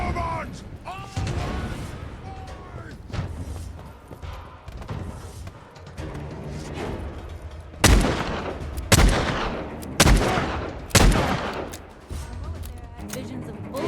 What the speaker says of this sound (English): Visions of bullets whizzing past my head